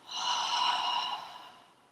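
A single long exhale during a relaxation breathing exercise, a soft breathy rush of air that swells quickly and then fades away over about two seconds, close and quiet with no speech.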